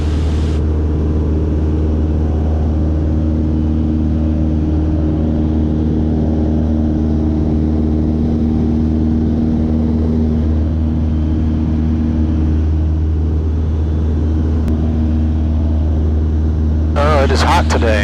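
Small airplane engine droning steadily at climb power, a loud continuous hum with strong low harmonics filling the whole stretch; a brief clatter comes near the end.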